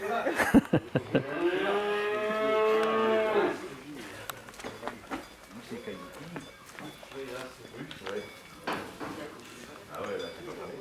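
Aubrac cattle on a farm moo once with a long, loud, near call, then people talk over scattered clinks of dishes and small thumps.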